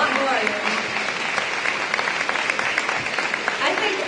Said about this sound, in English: They just really deserve a round of applause.